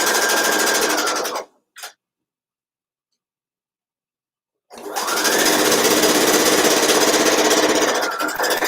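A sewing machine stitching a seam with a wide seam allowance, running in a loud, steady whir that stops for a few seconds, gives a brief burst, then runs steadily again to the end.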